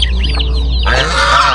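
Geese honk and cackle close by in a short loud burst of rising, nasal calls over a steady low hum, with no voices.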